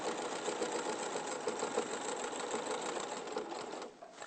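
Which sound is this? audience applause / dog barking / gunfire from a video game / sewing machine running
sewing machine running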